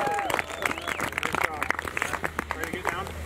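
Applause from an audience at a snowmobile race awards ceremony at Thunder Road, with steady clapping and crowd chatter under it, fairly quiet and distant.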